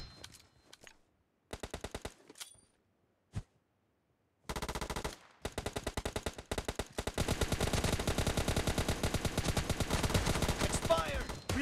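Gunfire in PUBG Mobile Lite starts as a few scattered short bursts, then becomes sustained rapid automatic fire with a fast, even rhythm that runs to the end.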